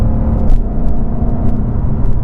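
A 2020 Ford Mustang Shelby GT500 drives hard, its deep engine rumble loud and continuous from inside the car, with a few brief ticks and whooshes over the steady roar and no talk.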